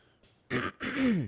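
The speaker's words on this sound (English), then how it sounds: "Sorry, I keep clearing my throat." A person clears their throat twice up close, a short rasp followed by a longer, gravelly one ending in a low grunt.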